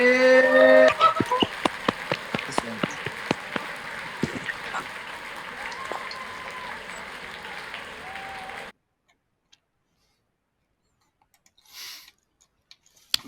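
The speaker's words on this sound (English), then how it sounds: "unmute your microphones and give everyone a round of applause" A virtual graduation audience unmuted on an online call claps together for about nine seconds, a dense patter of many hands with sharp individual claps, then cuts to near silence with a faint brief noise later.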